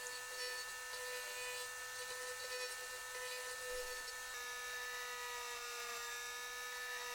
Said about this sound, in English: I used a Dremel to make a little clearance for the cable to come through.